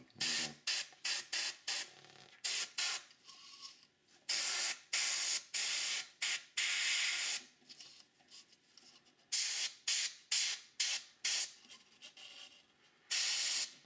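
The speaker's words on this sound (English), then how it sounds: "I'm having a little bit of difficulty getting my airbrush to get in there" An airbrush sprays paint onto a scale model in short repeated bursts of airy hiss, each lasting about half a second, with brief pauses between them and no talk.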